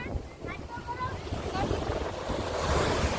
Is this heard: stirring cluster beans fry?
no